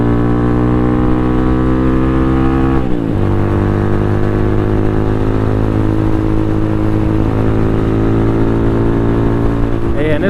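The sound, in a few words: Venom X22R motorcycle engine running at high RPM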